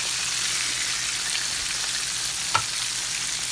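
Cajun-seasoned spareribs frying in hot oil, a dense even crackle close by with one sharp knock near the end as a rib is turned, no voices over the steady sizzle.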